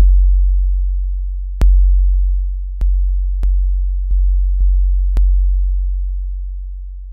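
Deep booming TR-808 bass drum hits, a long sustained low tone struck again several times at uneven intervals, each decaying slowly and loudly.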